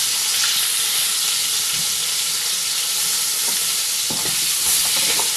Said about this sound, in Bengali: লম্বা লম্বা করে একটা আলু কেটে নিয়েছি, আলুটাও এর সঙ্গে ভেজে নেব।